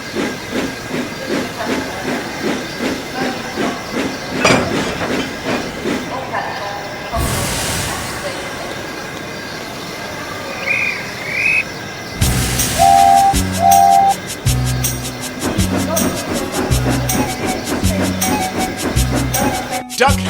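A small tank steam engine pulls away with its train, chuffing and hissing steam, followed by short whistle toots and a bell-like tone under narration; moderately loud with a busy, layered background.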